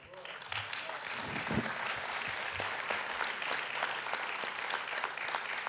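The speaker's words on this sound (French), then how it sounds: "quand je cite le nom de certains ou certaines, ça applaudit" An audience at a festival event applauds steadily, with sustained clapping from many hands that is even and fairly faint throughout.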